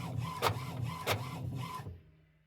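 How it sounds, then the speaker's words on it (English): A home printer runs a single copy on heavy cardstock, its mechanism whirring with two rhythmic thumps of the paper feed before the motor winds down into silence. "I'm going to hit print. Here's what I use for a printer."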